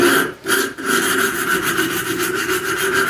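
80 grit emery cloth wrapped around a file rubs back and forth over a steel track fork, giving a steady, close, raspy scraping with two brief pauses near the start.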